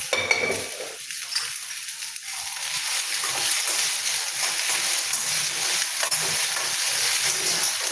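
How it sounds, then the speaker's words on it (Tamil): Okra sautéing in a pan on the stove while making a tangy tamarind curry, giving a steady, close sizzle with faint stirring and clinks of utensils throughout, no one speaking. "வெண்டைக்காய் வதங்கிட்டு இருக்கட்டும்"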